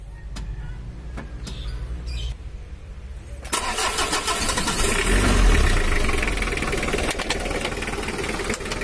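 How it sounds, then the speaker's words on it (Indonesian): An older-year Mitsubishi L300 diesel cranks on its starter, catches, and settles into a steady, slightly rough idle, loud and close, with no talking. "Udah halus ya lur untuk suara starternya, dan mesinnya udah mendingan, nggak terlalu kasar"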